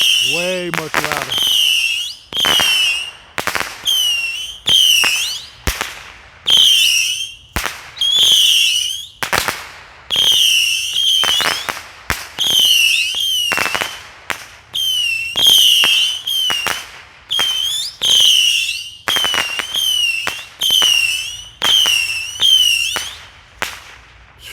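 A World Class 100-shot Saturn Missile Battery fires outdoors in a long, rapid string of shrill whistling rockets, each ending in a sharp crack, loud and fairly close, with brief gaps between bursts.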